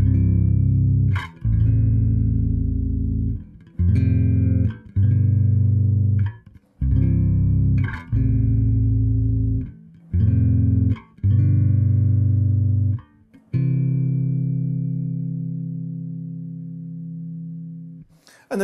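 Bass guitar chords played through a Trace Elliot Elf 1x10 bass combo, a series of sustained low chords with short gaps, finishing on a long ringing chord that slowly fades; no talking.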